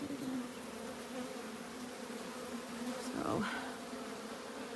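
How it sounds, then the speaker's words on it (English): A swarm of honey bees buzzes steadily and close throughout, a dense continuous drone that swells briefly near the end, with a short spoken word from a nearby person. "there's a bee right there doing the waggle dance"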